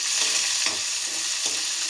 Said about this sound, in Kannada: ಸೊ ಈರುಳ್ಳಿ ಕಲರ್ ಚೇಂಜ್ ಆಗೋವರೆಗೂ ಇದನ್ನು ಚೆನ್ನಾಗಿ ಬಾಡಿಸ್ಕೊಳ್ಳಿ.